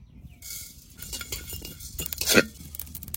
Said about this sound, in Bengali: প্রথমে শুকনো খোলায় কটা জিরে ধনে ভেজে নেবো।